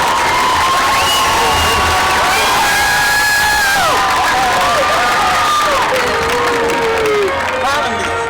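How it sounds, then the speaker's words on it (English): A football crowd at a WPIAL high school game between Indiana and Knoch cheers and claps loudly, with whoops and shouting voices layered over sustained applause close and dense throughout. "Let's have a nice round of applause for the members of"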